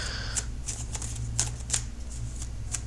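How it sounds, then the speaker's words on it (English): Tarot cards being shuffled by hand, a steady soft riffling with several sharp slaps and snaps of the deck, close and clear over a low hum, with no talking. "So I'm shuffling for a little while longer, for just a few more seconds."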